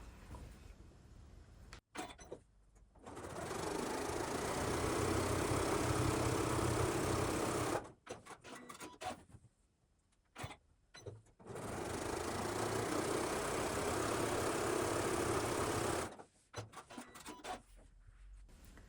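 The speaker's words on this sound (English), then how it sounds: "you're going to sew a 1/4 inch seam on opposite sides of the square" Sewing machine stitching a quarter-inch quilt seam on a layer cake square, two long steady runs of fast motor whirring, each broken by quieter handling and fabric shuffling between seams.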